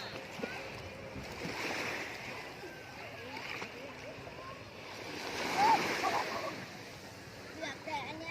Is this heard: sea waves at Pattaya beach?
yes